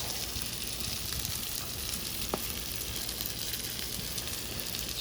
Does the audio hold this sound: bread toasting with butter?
yes